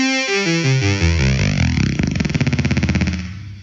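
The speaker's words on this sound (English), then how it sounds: "we can give it some low bass sounds on the synthesizer, like this" A deep, distorted synthesizer bass with a descending run of notes, ending in a rapid pulsing wobble that slowly fades.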